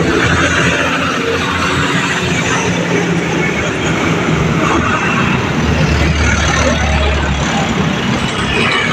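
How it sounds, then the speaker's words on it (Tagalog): Heavy traffic rumbles steadily past outside a Shopee warehouse in Pasiano, Laguna, with large delivery trucks giving a continuous loud, low drone and no break in the passing noise. "Yan po ang mga truck na Shopee"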